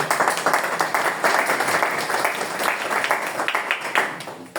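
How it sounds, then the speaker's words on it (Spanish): An audience at a book-day literary talk breaks into warm applause, a thick, sustained clapping from a full room that carries on for several seconds with a few sharper individual claps standing out. "Lo recibimos con fuertes y cariñosos aplausos."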